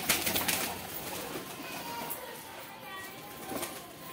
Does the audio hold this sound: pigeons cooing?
yes